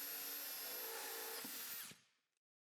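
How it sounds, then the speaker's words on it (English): A power drill bores a hole through a board, making a steady, close, high-pitched whir that stops abruptly near the end. "Now I drill 4 holes, one in each corner, so that I can insert the jigsaw blade."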